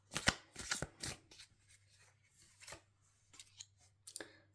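Tarot cards being shuffled and handled up close, with sharp riffles and snaps in an uneven run of bursts, then lighter scattered card taps over a low steady hum.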